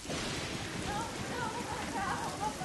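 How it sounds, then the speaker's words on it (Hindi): Heavy rain pours down in a continuous, dense hiss that fills the background at a steady level without pause. "बारिश अब भी तेज बरस रही थी।"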